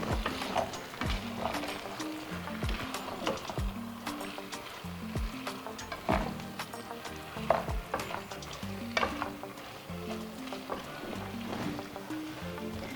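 Gizdodo, plantains and gizzards, stirred and turned in a sizzling pan, with repeated scraping and clattering strokes over a constant frying hiss, close and moderately loud.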